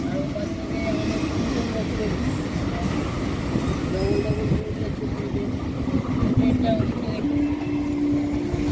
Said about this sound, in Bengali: আর ওপাশ দিয়ে চলে যাচ্ছে থ্রু ট্রেন